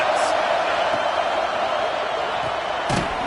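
Football stadium crowd roaring steadily for the defense in the red zone of a Rutgers versus Iowa game, a dense, loud wash of cheering with a few sharper shouts and thumps near the end.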